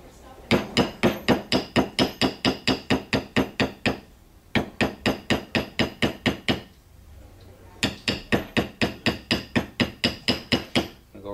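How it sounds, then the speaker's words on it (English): A beveling tool is struck along an edge in three runs of quick, evenly spaced taps with short pauses between. Each hit is sharp, close and loud, with no talking. "I'm going to take a beveling tool, if I can find one,"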